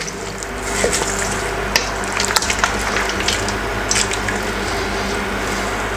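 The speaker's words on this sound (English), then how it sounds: "we are now going to add the rice. Give it a good stir." Rice being stirred into a saucy pot of chicken blood rice: soft wet squishing and scraping with occasional light taps against the pot, close and steady over a low background hum, no talk.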